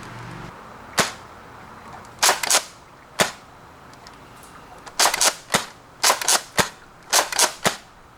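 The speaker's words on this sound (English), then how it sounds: "Alright, so here we are shooting the double dealer down the range." Nerf Doomlands Double Dealer blaster firing down a range, a series of sharp, snappy pops, single at first and then in quick pairs and clusters, loud and close.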